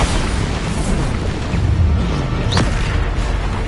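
A Bombardo blasting spell explodes in the video game Hogwarts Legacy, a loud booming burst with rumbling debris over continuous game noise.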